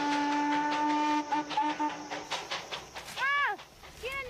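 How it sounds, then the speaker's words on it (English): At a hill station, a mountain train's whistle sounds in long held tones, then short broken toots and rising and falling wails, with a voice heard in the background. "And the sounds of the train they brought echo up from the valleys"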